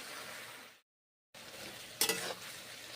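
Drumstick (sajne danta) vegetable curry with water, salt and turmeric being stirred in a pan, a steady close sizzle broken by a short silent gap, then a brief louder scrape of the spoon.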